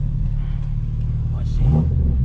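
A 2022 BMW M4 with single mid pipe, downpipe and front-mount intake holds a low steady rumble, then swells into a brief louder rev near the end, with voices over it.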